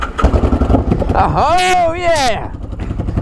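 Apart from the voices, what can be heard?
auction motorcycle engine starting and running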